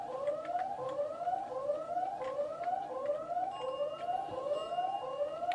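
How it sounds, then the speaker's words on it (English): A wailing, repeating alarm siren blares in the Spider-Man 2 video game, sweeping up in pitch over and over in steady cycles. A second steady tone joins partway through. "Can't this alarm just stop?"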